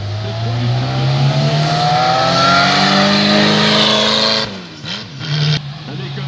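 A 1932 car with a 3-litre six-cylinder Alvis engine races uphill at a historic hill climb in the Vosges, its engine roaring loud and close with steady rising revs before cutting away abruptly near the end.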